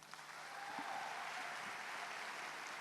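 Faint, steady applause from an audience, a soft wash of clapping that holds evenly for a few seconds.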